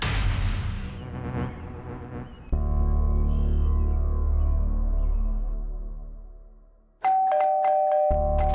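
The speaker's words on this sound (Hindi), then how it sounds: "क्यों इतनी घंटी मार रहे हो?" An electronic doorbell chimes loudly several times, its tones ringing out and slowly fading, followed by another sharp ring near the end.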